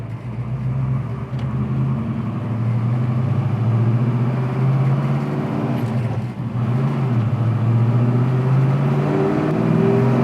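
A 1969 Camaro RS engine drives along with a deep, throaty rumble that rises and falls slightly as it revs, loud and close, with no voices.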